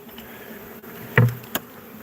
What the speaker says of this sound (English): These bees are going to literally come up and go in that hole, because the rest of them are fanning to get down in here